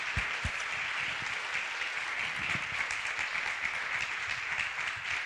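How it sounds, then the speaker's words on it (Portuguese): A church congregation celebrating its community's fourth anniversary claps together in a steady, dense round of applause, a few low thumps near the start, continuing evenly for several seconds. "Eu queria poder oferecer para Deus uma salva de palmas por essa comunidade aqui que está fazendo 4 anos"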